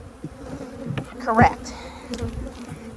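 Honey bees on a commercial beekeeper's hive frame give off a close, steady buzz with a brief rise in intensity, and a voice speaks briefly over the humming.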